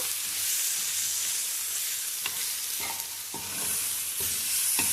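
Chicken stirred and frying in a pan, a steady loud sizzle broken by several sharp scraping stirs of the spoon against the pan, with no voices.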